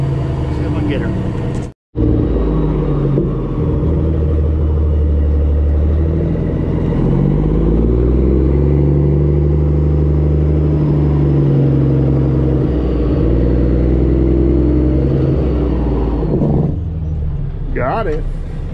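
A work truck's engine rumbles loud and close during a slow turnaround, its low roar rising and falling through the revs before cutting off sharply near the end.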